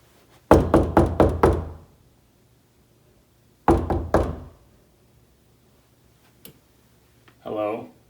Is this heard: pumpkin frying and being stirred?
no